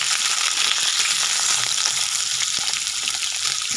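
Pointed gourd and potato pieces frying in hot oil, a steady dense sizzle and crackle close by with faint stirring, no voices.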